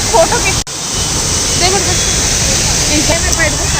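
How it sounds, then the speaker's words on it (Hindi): A steady, loud rush of falling water fills the whole clip, continuous and close. "देखा संगवारी सुंदर झरना"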